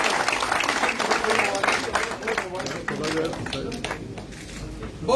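Applause and clapping from a crowd gathered at a political party headquarters event, a busy mix of claps continuing under a voice speaking over them.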